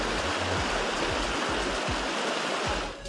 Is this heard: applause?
no